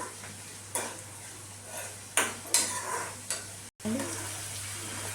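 Onions and green chillies fry in oil with salt, a low crackle under several scraping, clattering stirs of a utensil against the pan, close and moderate in level.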